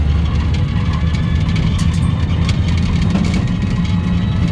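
A stripped desert-find tuk tuk auto rickshaw, converted to lithium power, drives along with a steady close road rumble and scattered light squeaks and clanks from its loose, tinny body.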